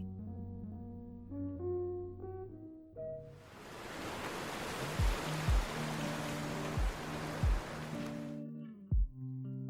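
Tumultuous sea waves surge around the ship Alcor, a steady roaring wash of surf that swells in for about five seconds over soft music, with a few low thuds beneath it before the noise cuts away.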